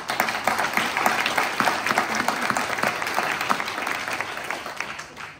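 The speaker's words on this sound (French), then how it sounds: "sous vos applaudissements, je t'adresse un grand merci pour tes efforts et ton engagement" Steady, moderately loud audience applause fills a hall at the opening of an autumn arts salon at Espace Gérard Philipe in Fronton, thanking a woman named Jacqueline; dense clapping without pause and no talk over it.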